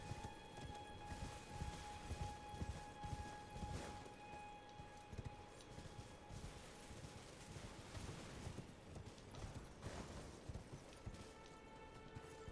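A mounted boss's horse in the Elden Ring video game gives faint, steady clip-clop hoofbeats that run on for several seconds, with scattered heavier thuds mixed through a low game soundscape.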